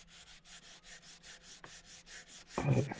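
Hand sanding scrubs away white residue inside a Mercedes W124's interior in quick, even back-and-forth strokes, close and rhythmic, followed by a short louder scrape at the end.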